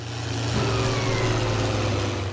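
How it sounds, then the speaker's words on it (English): Fiat 1880 DT tractor engine in a Farming Simulator mod, a steady close diesel drone with a deep throbbing tone that lifts slightly in pitch and holds a constant loud level, with no talk. "This tractor is outstanding, it really is. Just listen to it."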